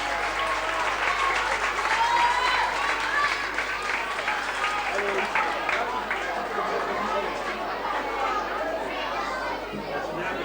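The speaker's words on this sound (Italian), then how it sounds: "Vorremmo che ci sia un applauso corposo perché è un ringraziamento" A crowd at a 1986 village palio claps loudly, the applause blending with chatter, children's voices and general bustle in a steady, dense wash throughout.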